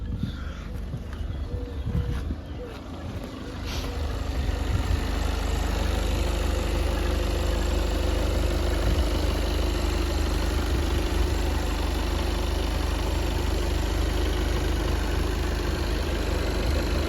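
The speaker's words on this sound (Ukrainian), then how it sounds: "як ми чуємо, двигун працює взагалі рівненько, чистенько, без жодних нарікань" A Volkswagen Passat TDI diesel engine starts and settles into a steady, even idle, a continuous low rumble that stays constant and close throughout.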